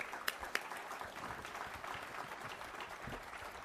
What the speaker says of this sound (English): We owe the Chief of Staff a round of applause for himself as well